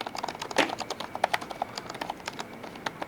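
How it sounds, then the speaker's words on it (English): Fingers type on a Lenovo Legion 7 gaming laptop keyboard with a Ryzen 7 5800H and RTX 3060, producing soft, quick, close-up key clicks in an uneven run of taps. "This is what the keyboard sounds like."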